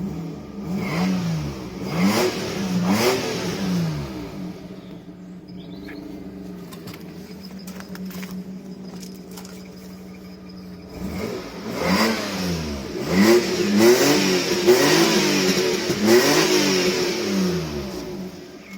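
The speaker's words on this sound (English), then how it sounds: "It does run. Not, I mean, it runs alright. It's got raspy exhaust" A car engine revs repeatedly with a raspy, rough exhaust note, several bursts of throttle, settling to a quieter idle in the middle before revving again.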